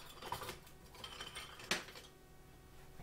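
Metal whisk clinking and scraping against a pot while stirring dairy for mac and cheese, a few quick light taps and a sharper clank, close and fairly quiet.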